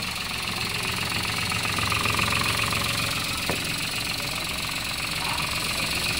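A Toyota Wigo G 1.0 manual runs at a steady idle, a loud continuous close engine drone with rapid rhythmic knocking texture throughout.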